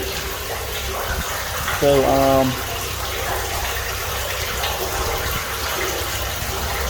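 Water drained by a lift station pump, a steady broadband rush that runs evenly throughout while a voice briefly speaks over it near the start.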